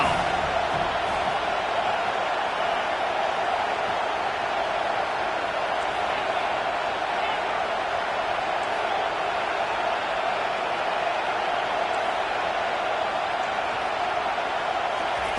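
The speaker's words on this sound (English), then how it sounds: "Here comes this home crowd as the defense tries to get off the field on 3rd down." A home crowd roars at a college football game between Boise State and Penn State, with a steady, dense wall of cheering and noise filling the stadium throughout on a defensive third down.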